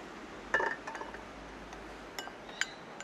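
Turmeric and water paste mixed in a bowl, giving a few light clinks of utensil against the bowl near the start and again near the end, quiet and close with no talk.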